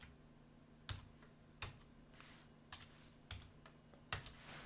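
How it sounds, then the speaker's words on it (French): Sparse keystrokes tap out console.log on a computer keyboard, a handful of soft, close clicks spaced unevenly over a faint steady electrical hum. "Donc je tape console.log"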